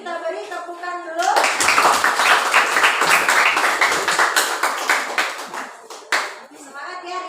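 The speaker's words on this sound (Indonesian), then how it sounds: "Sebelumnya kelompok 4 tampil kita beri tepukan dulu." Classroom clapping for a student group about to present: a burst of many hands clapping, close and lively, running several seconds with a teacher's voice before and after.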